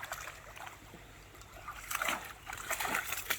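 Dogs splashing through a clear stream on a countryside walk near Lyme Regis, Dorset, bursts of sloshing and splatter growing busier toward the end over a steady trickle of water, with faint talk in the background.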